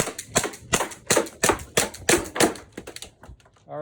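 Rapid series of sharp pops from a less-lethal launcher fired at a target's body on a range, about a dozen close, loud shots in a fast, slightly uneven rhythm, then a short mechanical rattle at the end.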